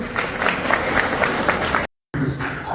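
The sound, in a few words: audience applause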